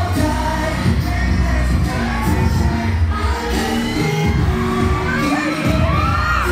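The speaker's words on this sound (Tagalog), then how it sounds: "Narinig niyo yung sigaw?" A crowd at a concert at SM Megamall screams and cheers loudly and continuously, a dense wall of voices with high shrieks over a booming low rumble.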